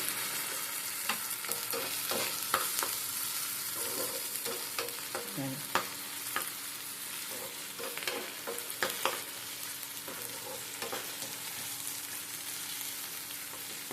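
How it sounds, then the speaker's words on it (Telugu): Ginger paste frying in hot oil, catering style, giving a continuous close sizzle broken by frequent clicks and scrapes of stirring throughout. "బాగా వేగాలి, ఎర్రగా రావాలి"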